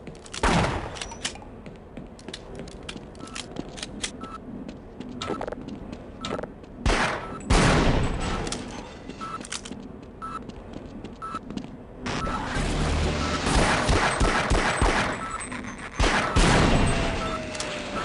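Repeated bursts of gunfire sound in Borderlands 4, with sharp shots and rapid volleys spread across the stretch, some clustered into dense, loud chaotic barrages and others separated by brief lulls.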